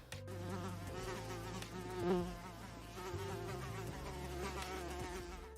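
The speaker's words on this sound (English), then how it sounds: "the buzzing sound of a housefly" A housefly buzzes steadily and close, a continuous droning hum that wavers slightly in pitch, heard alone and quietly.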